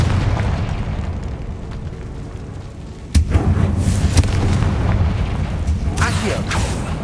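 An explosive Confringo spell cast in Hogwarts Legacy, with a sudden loud blast cutting in midway over a steady game rumble, then several sharp follow-up bursts and crackles nearby.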